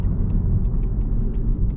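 Honda Civic Si with about 250 horsepower, driven in sport mode over a bumpy road, gives a steady, loud low rumble of engine and road noise with faint rattles, heard from inside the cabin and free of talk.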